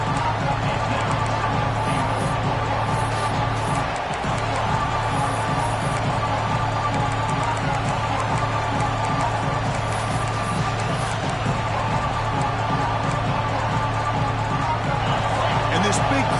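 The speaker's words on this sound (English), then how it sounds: "this big crowd doing everything possible to inspire this defense down here near the goal line" A large stadium crowd in the College Football 26 video game keeps up a steady, unbroken roar from start to finish, with no break in the noise.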